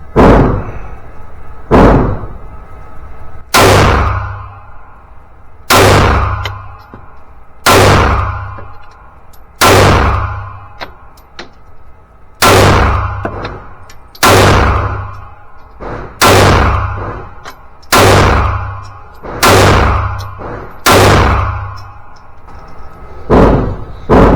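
A pistol fired round after round until the magazine runs empty: about a dozen loud, sharp reports spaced roughly two seconds apart, each with a short ringing tail, close and forceful.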